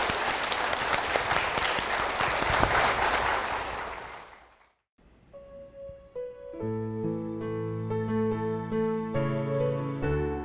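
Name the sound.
applause of blessing for a family in church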